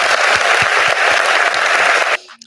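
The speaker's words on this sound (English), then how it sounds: "Round of applause for the mess." Studio audience applause on a culture talk show, a loud dense burst of clapping filling the room for about two seconds before cutting off abruptly into near silence.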